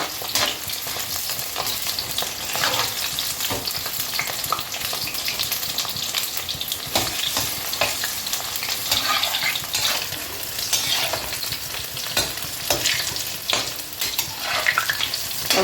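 Chillies frying in a pan of oil for besan bhindi, a dense, steady crackling sizzle with bubbling and occasional stirring, close and loud throughout, with no voices.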